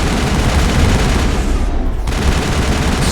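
An AA gun fires in Mass Effect on Virmire, a dense, continuous barrage of rapid booming shots that fills the whole stretch, loud and close.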